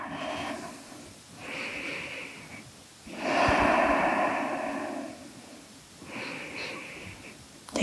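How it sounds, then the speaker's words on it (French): Slow, deep breathing during a Sivananda Hatha yoga exercise, with long audible inhales and exhales in a repeating rhythm, close and breathy, with no speech. "Des grandes respirations."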